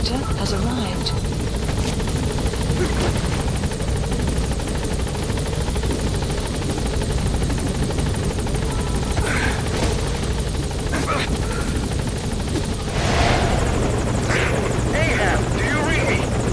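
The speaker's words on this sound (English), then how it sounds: "Support helicopter has arrived." A helicopter's rotor drone hums steadily throughout, with occasional sharper bursts and noises layered on top, from a support helicopter arriving at a landing zone in Metal Gear Solid V: The Phantom Pain.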